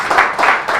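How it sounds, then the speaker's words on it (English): An audience applauds a panelist walking to the stage at a business talk's closing panel: a brief burst of dense clapping from a crowd. "Big applause to Marton Kocsev from JZ."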